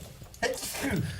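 A person sneezes once, loudly and close, in a brief sharp burst during a live radio sports talk show, with talk murmuring around it.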